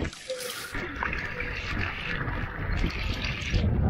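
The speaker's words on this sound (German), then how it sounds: "meine Kamera hier eintunken." A camera plunges into murky outdoor water, giving a sharp splash followed by close, churning underwater gurgling and bubbling that continues to the end.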